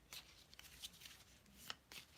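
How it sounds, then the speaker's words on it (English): Oracle cards being shuffled by hand, soft close riffling and flicking in a few quick bursts, quiet and with no talking. "Let me just do a quick shuffle."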